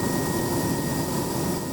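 A helicopter flying a newborn to a neonatal ICU gives a steady, loud, broadband engine and rotor roar with no distinct blade beat, constant throughout.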